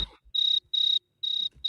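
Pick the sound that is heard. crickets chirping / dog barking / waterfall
crickets chirping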